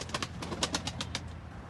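Racing pigeons, a smoky-grey male with a mirror tail among them, give soft close coos and faint flutters in a quiet loft, several short bursts spread across the moment.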